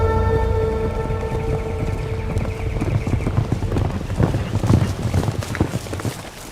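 Steady clip-clop of horse hooves on hard ground, several animals moving at a walk, fairly close, with a low steady hum underneath.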